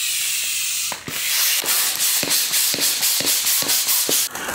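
Helium or gas hissing steadily into a birthday balloon, a loud continuous spray-like rush broken by brief pauses and small rubbery squeaks as the nozzle shifts.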